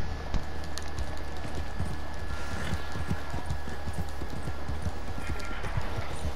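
Horse hooves in the video game Red Dead Redemption 2 clatter in a steady, fast clip-clop rhythm close by, continuing throughout alongside a constant low rumble.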